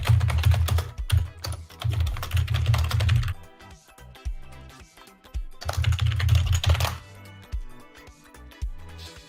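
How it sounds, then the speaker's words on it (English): Rapid clattering of a computer keyboard under fast typing, picked up loudly by a nearby microphone, comes in two dense bursts separated by a quieter stretch of scattered keystrokes. "My keyboard sounds like a friggin' clockwork piece of crap"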